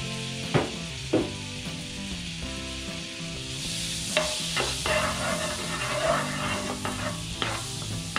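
Butter and a little oil sizzle in a pan before garlic and onion are sautéed, a close, even frying hiss broken by occasional utensil taps and scrapes against the pan.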